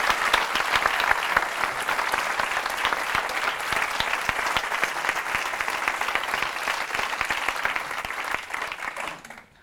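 A theatre audience claps for the stage managers, a dense, steady round of applause holding loud for about eight seconds before thinning and fading at the end.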